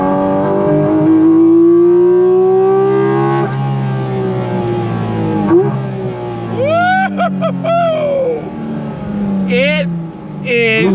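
A 2025 Porsche 718 Cayman GT4 RS accelerates hard from a launch, its engine rising in pitch through several gear changes. The engine is loud and close, and a voice talks over it.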